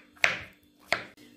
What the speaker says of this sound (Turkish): Şöyle biraz küp doğrayacağım dostlar.